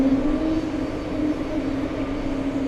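Steady, loud aircraft engine drone near the TWA Hotel airfield, a continuous low hum with a tonal band holding unbroken throughout, no voices over it.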